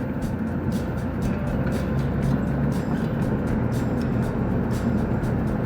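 A car driving the loop roads of Cedar Hill State Park, a steady interior road drone with low engine hum and tire noise, even and continuous throughout.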